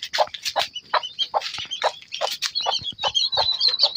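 Country hen clucking near her newly hatched chicks, a steady run of short, close clucks and chirps repeating through the whole stretch with no talk.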